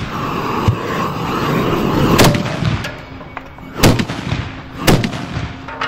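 Carbide shooting in Veenklooster, blasts fired from milk churns with lids: several loud, sharp booms ring out over a steady outdoor rumble, each followed by a brief echoing tail.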